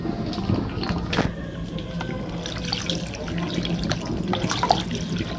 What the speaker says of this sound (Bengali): এগুলো আমি এখন একটু ঠান্ডা পানি দিয়ে ধুয়ে নেব।